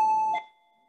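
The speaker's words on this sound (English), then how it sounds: "just at the right time, the doorbell rung" A home doorbell rings once with a clear, loud electronic chime tone that cuts off quickly, leaving silence.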